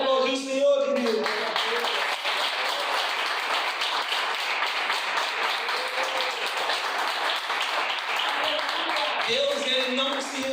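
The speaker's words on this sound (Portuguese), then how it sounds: "Você pode aplaudir o Senhor, querido?" A church congregation applauds during a sermon in a sustained, thick wash of hand clapping, with voices heard over it at the start and again near the end.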